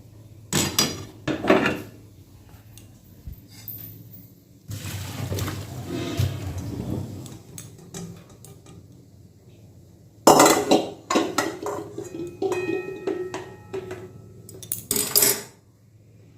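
Metal pot clattering and clinking as water is drained from boiled banana flowers, with several loud bursts of scraping, knocking and rattling separated by quieter pauses, close by with no talk.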